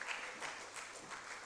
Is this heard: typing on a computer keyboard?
no